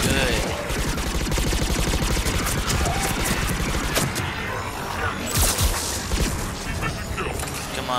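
Rapid turret gunfire rattles continuously in Mass Effect 3 multiplayer, dense loud bursts mixed with explosions and battle noise.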